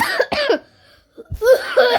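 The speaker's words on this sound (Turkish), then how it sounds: "Öksürdüm." Two bursts of coughing, close and loud, separated by a short pause, with a laughing quality to them.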